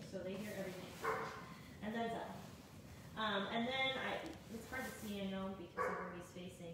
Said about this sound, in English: I apologize for the barking dog in the background.